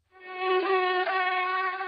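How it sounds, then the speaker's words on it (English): A gnat buzzes around a lion's head, a steady thin drone that swells in and holds close and fairly loud for nearly two seconds with no voices. "a gnat that was buzzing around his head"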